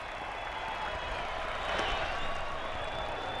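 A large baseball crowd at Wrigley Field cheers and applauds, forming a steady wash of distant noise that swells slightly partway through, with no clear speech over it.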